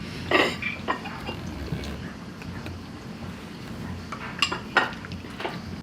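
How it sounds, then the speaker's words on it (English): Homemade rooster noodle soup being ladled from a pot, with scattered clinks of a metal ladle and dishes, a couple of louder knocks near the start and end over low kitchen background noise. "Now we're gonna serve some of this for dinner"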